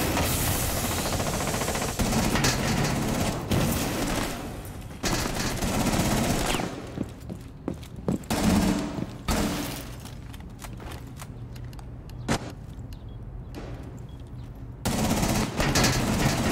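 Gunfire in a tactical shooter video game comes as loud bursts of rapid automatic fire, some sustained for several seconds and some broken by short pauses and single shots, close and without talk.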